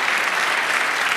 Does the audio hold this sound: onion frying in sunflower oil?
no